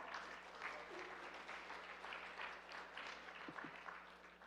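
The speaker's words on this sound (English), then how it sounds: "So can we please have a huge round of applause to Soundarya?" Audience applause at a live economic conference of a world Tamil economic foundation in the USA, a moderate steady clatter of clapping from a hall crowd, with faint voices mixed in.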